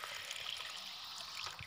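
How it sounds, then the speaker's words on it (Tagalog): About four liters of water pour into a cooking pot for pork bone soup, a steady close trickle at low volume with no speech. "So, lagyan po natin ng tubig."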